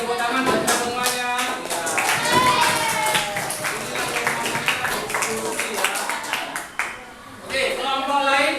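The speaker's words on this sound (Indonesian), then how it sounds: "Sekarang kita tepuk tangan buat kita semuanya." Classroom applause for everyone during a teacher-training session, a steady patter of many hands clapping at close range for several seconds, with voices talking over it and a brief dip near the end.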